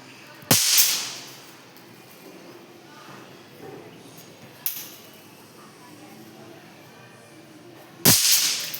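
Diwali firecrackers go off outdoors as three sharp cracks spaced several seconds apart, each a sudden loud burst fading into a low hiss of background noise.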